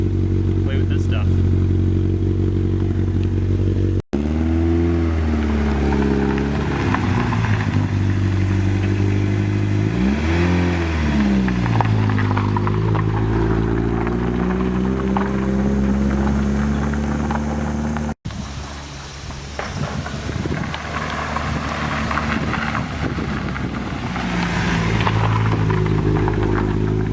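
A 32-year-old car engine driving short laps around a house to warm up, a loud low rumbling note that rises and dips repeatedly as it revs and drives past, with talking mixed in over parts of it.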